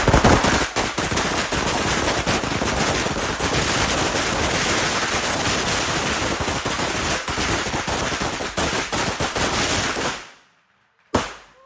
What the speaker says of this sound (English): I'm hearing firecrackers everywhere.